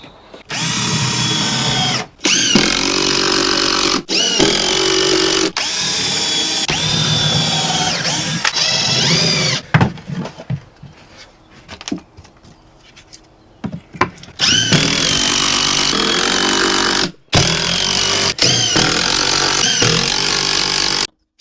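A power drill runs in long bursts into dry wood for pilot holes and screws, loud and close, with short pauses between runs and a quieter stretch of clattering handling in the middle.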